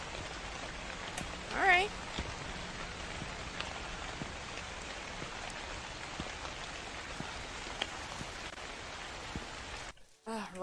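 Steady rain falling in The Convenience Store horror game, a constant hiss of drops on surfaces with a short spoken word early on, then the sound cuts out near the end.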